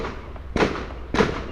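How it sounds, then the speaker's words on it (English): Two loud firework bursts about half a second apart, each a sharp crackling boom over a low background rumble, fairly close. "it's fireworks"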